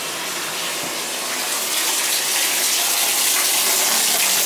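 Water runs from a bathtub faucet in a steady, loud, close gush that keeps going without a break and builds slightly, with no talking.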